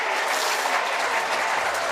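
Crowd at a Featherstone Rovers versus Newcastle Thunder rugby league match claps after a conversion, producing a steady, distant wash of applause lasting under two seconds with no voices on top.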